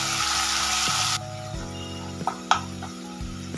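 Soy sauce, tomato sauce, chilli powder and salt are mixed in a pan for spicy garlic chicken: a loud hiss gives way to a quieter sizzle with a few sharp spoon clicks against the pan.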